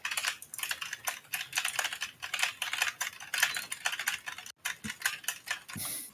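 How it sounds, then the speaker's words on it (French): Rapid clacking keystrokes on a computer keyboard, close and fairly quiet, in irregular bursts with a couple of brief pauses. "Zornfi qui est en train de maltraiter son clavier."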